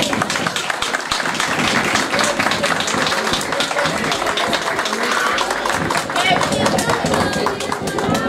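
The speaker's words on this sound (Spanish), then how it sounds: "Un aplauso." Audience applause at a technical school's end-of-course exhibition in Vichadero, dense steady clapping filling the room continuously and fairly loud throughout, with crowd murmur mixed in.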